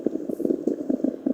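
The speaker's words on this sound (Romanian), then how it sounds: "Văd că avem și lava acolo, e bine." Lava in the Minecraft Hexxit game bubbles in soft, rapid pops and gurgles, a short close burst of liquid blips with no voices.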